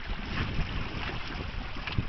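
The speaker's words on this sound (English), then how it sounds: "this wind has an edge that's cold enough to make the" Cold winter wind blowing outdoors during a fossil and artifact hunt, a steady broadband rush with buffeting gusts against the microphone and faint low rumbles, with no talking.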